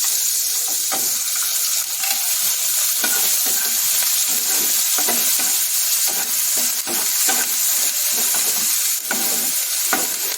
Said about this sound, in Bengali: দেখুন এবার তেলে দিয়ে দিচ্ছি রসুন বাটা, এরপর দেব